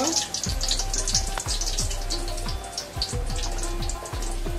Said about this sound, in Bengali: 1 মিনিট ভেজে নেব, 1 মিনিট ভেজে নেব একটু সুগন্ধি বের হওয়ার জন্য।